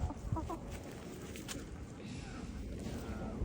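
Chickens clucking softly during a dustbath, with a few short clucks near the start over a steady broad rustle and background noise, the birds close by but not loud.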